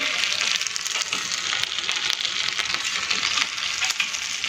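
Sooji rings fry in hot oil, giving a continuous bright sizzle and crackle with scattered small pops, steady and close throughout.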